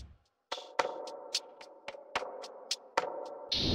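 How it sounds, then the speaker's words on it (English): A percussion loop from Loner's Synth Diaries one-shot kit for a dark FL Studio sample, with sharp repeated hits in an even pulse over a dim, washy bed, fairly quiet and without voices. "grabbed this perk loop"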